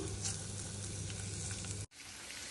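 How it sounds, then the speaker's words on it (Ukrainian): Shrimp sizzle steadily in a hot pan with butter, garlic and rosemary, a dense even frying hiss that cuts out abruptly near the end before faintly resuming. "Тепер висипаємо сюди креветки, смажуємо."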